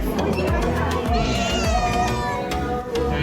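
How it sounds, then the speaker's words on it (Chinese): A cat meows repeatedly at a meal stop in Turkey, its cries rising clearly over nearby talking and a busy background. "猫咪，"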